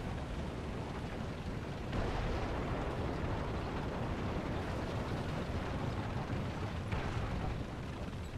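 Explosions and bomb blasts in the combat video game War Thunder come through as a continuous loud roaring rumble, with surging booms around two and seven seconds.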